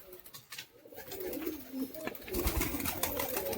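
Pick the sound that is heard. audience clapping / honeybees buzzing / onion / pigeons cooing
pigeons cooing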